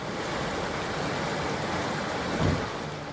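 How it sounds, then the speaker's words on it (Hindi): Madhya Pradesh's Narmada river in flood at Mandla after heavy rain rushes past as a loud, unbroken roar of churning water, with one brief low surge near the end. "भारी बारिश से उफान पर नर्मदा नदी।"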